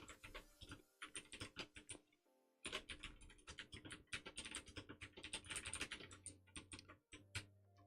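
Rapid typing on a computer keyboard, close and quick with dense bursts of key clicks, a brief pause near two seconds, then more fast clattering and a low hum at the end.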